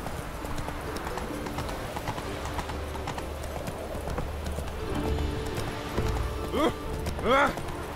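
Roach, the horse in The Witcher 3, gallops with a steady run of close clip-clop hoofbeats. A couple of short whinnies rise near the end over constant game ambience.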